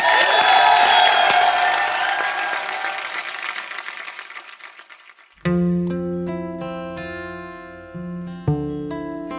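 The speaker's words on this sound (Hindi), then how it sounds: "जोरदार तालियां।" A television studio audience on a comedy show applauds and cheers loudly, and the sound fades over about five seconds before a playback singer's music cuts in abruptly.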